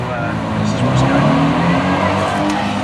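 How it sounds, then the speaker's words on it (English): A car with a loud rotary engine on George Street, Dunedin's main street, drones steadily and close by for the whole stretch, with a rough low growl and no clear revving. "Constables Julian Reel and Jared Kirk have heard the distinctive sound of a loud rotary engine"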